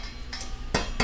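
A utensil scrapes and clinks against a pot while a rice mixture simmering on the stove is stirred, two close knocks standing out above a steady low hum.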